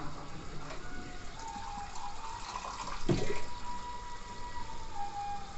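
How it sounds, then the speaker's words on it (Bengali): Water pours into a cooking pot of potatoes for a fish-dumpling curry, a faint, steady gushing that swells briefly in the middle before settling back to a low flow. "এবার আমি জল দিয়ে দিচ্ছি।"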